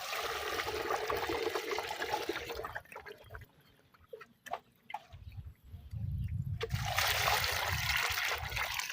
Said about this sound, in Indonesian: setelah itu kita kasih air